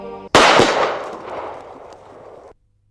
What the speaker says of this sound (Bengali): চোখ খোলা রেখে গুলিটা করেন।